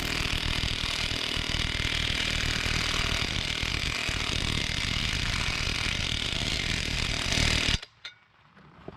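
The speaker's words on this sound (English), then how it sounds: "then you can just start using an impact wrench and this will pull it in" Impact wrench driving in the axle shaft on a 2003 Lincoln Town Car during bearing and seal repair: a loud, steady, buzzing mechanical whir held for nearly eight seconds, then cutting off abruptly into near silence.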